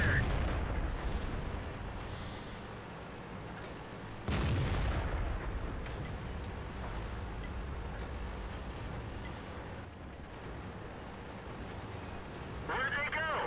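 Artillery fire in World of Tanks, a sudden heavy booming blast cutting through the constant rumble of a medium tank's engine, with a voice talking over the battle noise.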